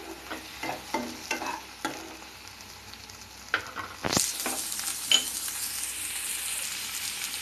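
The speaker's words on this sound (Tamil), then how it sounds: "உப்பு போட்டு நல்லா வதக்கிக்கோங்க" Onions and tomato sautéing with salt in a pan for a mutton bone soup: several sharp spatula scrapes over a low sizzle, then a sudden louder, steady hiss that carries on close by, with no talking.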